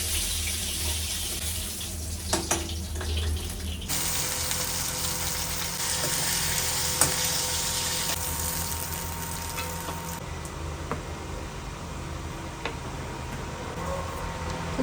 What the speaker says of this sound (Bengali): তো তেলের মধ্যে একটু কালো জিরে, কাঁচা লঙ্কা ও পেঁয়াজ দিলাম, দিয়ে ভালো করে ভেজে নিলাম।